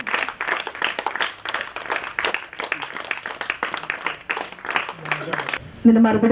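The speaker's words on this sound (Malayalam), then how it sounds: "ഈ ഒരു നല്ല മനസ്സിൽ നല്ല ശക്തമായ കൈയടി തന്നെ വേണം" Audience applause at an anganwadi inauguration held by a municipal ward, a dense wash of many hands clapping steadily for several seconds before fading as a tone-like sound enters at the end.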